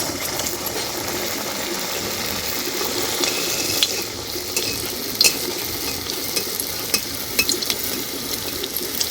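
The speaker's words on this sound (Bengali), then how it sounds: "এইভাবে করে ভেজে নিয়েছি এবার নাবিয়ে নেব এইভাবে করে আবার একটা দিয়ে দিচ্ছি" Pieces of a quick chicken snack fry in hot oil, giving a steady, close sizzle throughout with a few small pops and crackles and no talking.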